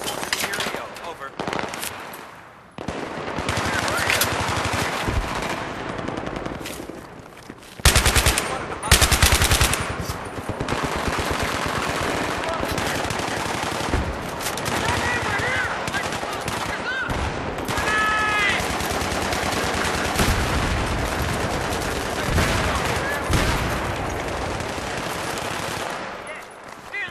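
Automatic weapon fire in Battlefield 3, loud close bursts and sustained rapid volleys rattling across the scene with a short lull, while players talk over it.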